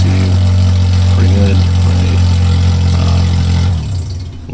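A Toyota 2AR-FE engine swapped into an MR2 Spyder idles with an open header and no O2 sensors, a loud steady low drone with a raspy exhaust edge that drops off near the end.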